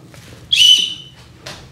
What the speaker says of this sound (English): Most of your backpacks these days have the emergency whistle on it,